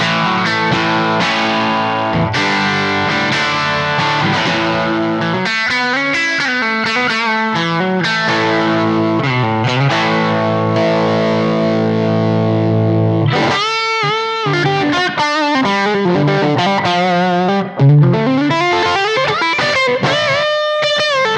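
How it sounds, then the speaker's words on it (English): A Les Paul electric guitar with two PAF humbucker pickups and a 3-way toggle plays through heavy distortion, loud and sustained, with ringing chords and bends running continuously, pausing only briefly once. "It's just a straight up Les Paul. So it's solid, 2 PAFs, a 3-way toggle."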